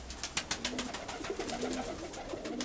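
A steel-grey pied, white-tailed dove coos in soft repeated low calls close by, over a faint background of clicks and rustling.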